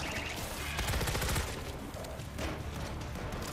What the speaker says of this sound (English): I set up an auto turret